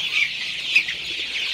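26-day-old Sonali super hybrid chicks on a farm, at their morning watering, give loud, close, high-pitched clucking calls, with two brief, sharper cries standing out.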